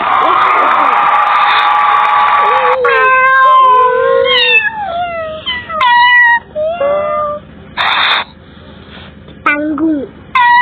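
Kitten meowing in the Stickman Party video game, a string of high, sliding mews in quick succession with brief gaps, loud and close, mixed with bright game sound effects.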